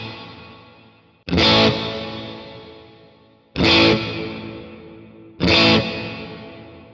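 Electric guitar through reverb, three strummed distorted chords struck at even intervals, each ringing out into a long, slowly decaying tail with a darker, softened top end.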